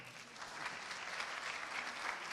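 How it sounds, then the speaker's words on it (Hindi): An audience at a live festival-of-ideas event with Nawazuddin Siddiqui applauds in a steady, fairly faint wash of clapping that holds evenly throughout. "सहमत हो तो तालियां बजाएं।"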